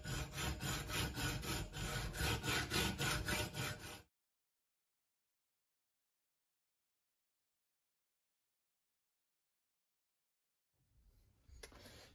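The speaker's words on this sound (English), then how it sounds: "What I'm going to use is just a hand hacksaw to cut through this." A hand hacksaw cuts through a metal pipe held against a vise, giving rapid rhythmic rasping back-and-forth strokes for about four seconds, then silence before faint scraping resumes at the end.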